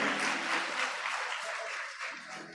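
A church congregation at an Advent sing-song service claps along to a Christmas song, a soft, fairly distant patter of hands continuing steadily without a break.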